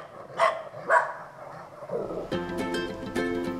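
Livestock guardian dogs bark outdoors: two spaced, mid-distance barks open the stretch, then a more tonal, whining vocal layer continues steadily behind them.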